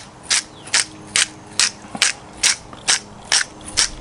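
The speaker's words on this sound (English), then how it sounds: "Let's grind the pepper." A hand pepper grinder cracking pepper over a raw tomahawk steak, nine sharp grinding crunches in an even rhythm about every half second, close and crisp with nothing else heard.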